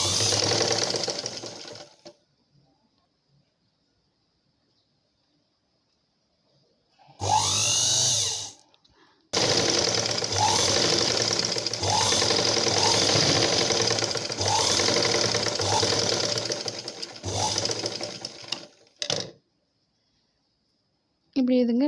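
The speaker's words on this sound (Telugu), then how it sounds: "ఇప్పుడు మనం పైనుంచి స్టిచ్చింగ్ చేసుకోవాలి." A sewing machine stitches blouse fabric in steady whirring bursts, running for a couple of seconds, then a short burst, then a long continuous run with brief pauses between stretches, loud and close.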